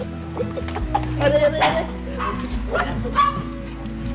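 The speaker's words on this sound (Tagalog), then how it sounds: "May aso dito, malaki." A large dog barks and yelps several times nearby, mixed with whimpering and voices talking in the background.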